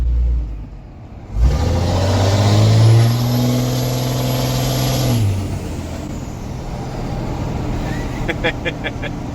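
A Cummins diesel hotshot truck with a full 5-inch exhaust revs hard and loud, a deep roaring surge that holds for a few seconds then drops back to idle rumble.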